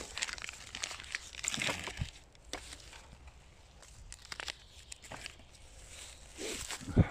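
Paper being crumpled and handled outdoors, with irregular crinkling rustles and crunches in quick bursts, fairly faint, some soft footstep-like scuffs mixed in.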